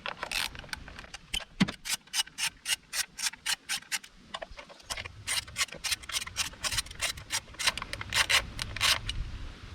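A 10mm socket wrench turned anti-clockwise to loosen the spark plug cover bolts on a Peugeot 107, giving a fast, steady run of loud ratcheting clicks up close, with no talking.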